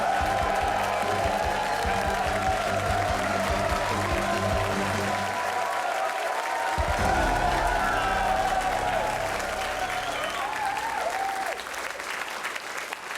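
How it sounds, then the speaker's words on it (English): Loud, sustained studio audience applause with cheering fills the room throughout a GamesMaster game show taping, dense and continuous, with a brief dip midway and faint voices under it. "Everybody, please just give a huge round of applause for this guy"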